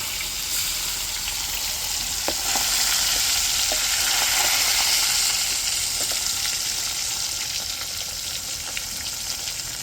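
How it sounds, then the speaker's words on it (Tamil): Fish head pieces fry in hot oil with a steady, dense sizzle that runs the whole time, broken by a few small pops and stirring clicks, close and fairly loud, with no voices. "இப்போ தலைப்பகுதி மீனை பொரித்து எடுத்துக்கிடுவோம்."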